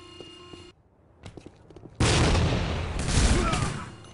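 A grenade goes off in the tactical shooter Tactical Ops, a sudden loud booming blast after a few quieter clicks and shots, the rumble sustaining and swelling for about two seconds.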